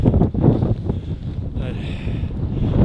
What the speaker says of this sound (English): the wind is absolutely freezing